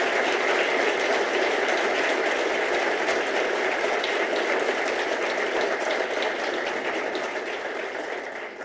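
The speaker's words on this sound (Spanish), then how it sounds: "quiero pedir un aplauso para nuestro ministro de Economía" A large political audience in Argentina applauding the Economy minister, dense sustained clapping and cheering that fills the whole stretch, fading slightly near the end.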